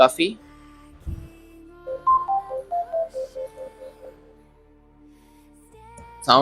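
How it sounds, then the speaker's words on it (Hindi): A phone answers a KW13 Max smartwatch's Find Device command with a short run of stepped electronic alert tones over a low, steady vibration buzz. It is fairly quiet and close, with a brief louder burst at each end. "यहाँ पे हमारा मोबाइल जो है वो एक बार वाइब्रेट किया है, और साउंड ये देखें हमारा मोबाइल जो है वो वाइब्रेट कर रहा है"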